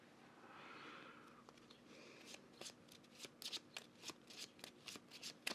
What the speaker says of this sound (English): Shuffle the rest of the modular set and place it on top of the encounter deck.